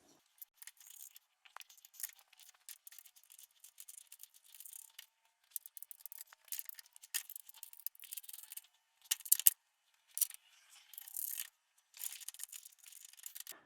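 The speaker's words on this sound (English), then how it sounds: "I'll just take a bolt, slide on a washer. A washer is going to go on top, and then the nut on top as well." Metal bolts, washers and nuts for a trailing arm crossmember are picked up and threaded on by hand, making close, small clinks, jingles and scrapes in scattered short bursts with quiet gaps between.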